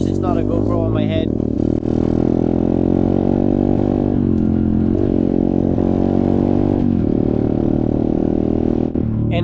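A motocross motorcycle engine runs steadily up close for the whole stretch, a loud, sustained mid-pitched drone with slight shifts in revs and no clear pauses.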